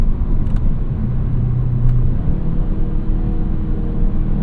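A 2025 Kia K5 GT engine rumbling and revving under repeated downshifts on the road, a steady low drone with brief rises in engine pitch heard from inside the car.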